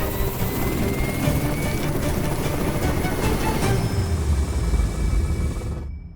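Steady, loud rotor and turbine roar of a helicopter loaded with explosives for slope clearing above a mountain railway, holding constant throughout before cutting off abruptly near the end.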